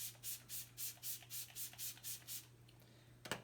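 Smashbox setting spray gives off a quick run of about nine soft, airy mist puffs in a steady rhythm, faint and close, followed by a small click and no talking.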